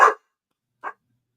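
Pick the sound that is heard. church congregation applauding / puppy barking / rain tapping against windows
puppy barking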